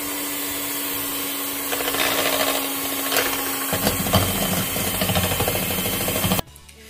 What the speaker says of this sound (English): I'm going to use my hand mixer to mix everything together